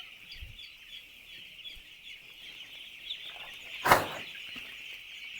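Six-day-old chicks in a poultry shed keep up a continuous high peeping chorus, steady and moderately loud, with a brief sharp knock partway through and no talking.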